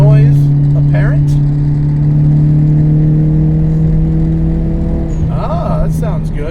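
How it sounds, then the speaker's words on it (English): Modified 2010 Hyundai Genesis Coupe 2.0T pulling hard, a loud steady engine drone inside the car that rises, then a brief hiss from the blow-off valve near the end. "Blow-off valve noise apparent."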